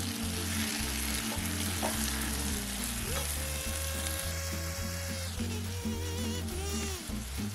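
Eggplant and cooked broad beans frying in oil in a pan, a steady close sizzle with stirring scrapes and clinks throughout, no talk.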